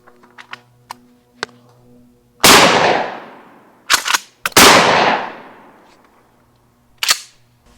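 Two loud, close blasts from a Mossberg 590 Retrograde 12 gauge pump shotgun, each followed by a long decaying boom, with a shorter sharp crack near the end and small clicks of handling between.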